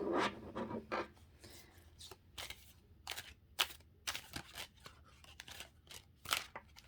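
Tarot cards are side-shuffled by hand at close range, with quick papery slides and soft flicks in irregular bursts.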